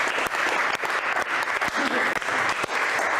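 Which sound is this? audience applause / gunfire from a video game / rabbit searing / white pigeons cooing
audience applause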